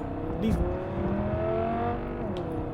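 A car in the video game Cyberpunk 2077 drives down a city street, its engine a steady mid-level drone with slowly rising and falling tones as it accelerates, and someone talks faintly over it.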